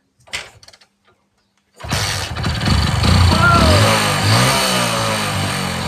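After a few faint knocks and a short silence, a motorcycle running on paint thinner instead of petrol starts up and settles into a loud, steady close-up engine drone with slight wavering revs.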